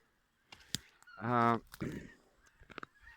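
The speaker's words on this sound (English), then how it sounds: "You constantly hear geese, and this has always been a spot for geese to feed." A single goose honks loudly nearby at a feeding spot near the Danish and German coasts, with a few fainter honks and rustling clicks around it.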